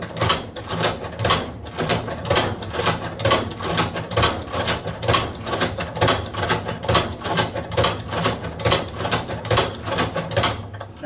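An Outlaw manual leather sewing machine stitches leather as its handle is pulled again and again, making a steady, close clacking rhythm of mechanical strokes at a fairly quick, even pace throughout.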